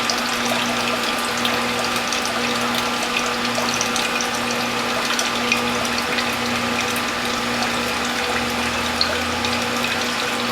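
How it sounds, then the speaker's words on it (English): Juice press squeezing two cloths of watercress, French sorrel, carrot, beet, turmeric, ginger and garlic pulp, giving a steady mechanical hum with continuous trickling, splashing juice flow throughout, close and even, with no talking. "We're going to press 2 cloths full of pulp at a time."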